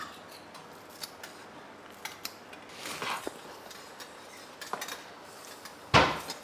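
Quiet, repeated snipping of scissors cutting coriander leaves, a few crisp clicks spread out, ending with a sharper metallic clack.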